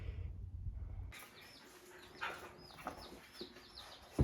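Day-old chicks peep in a quick series of short, high chirps close by after a brief low rumble. The chirps come in scattered bursts over faint background noise.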